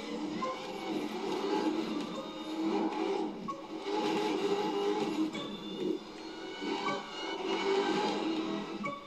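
A car racing in The Crew 2 video game, 1970s racing event on a summit, engine droning steadily with rising and falling revs, loud and continuous throughout, with no talk.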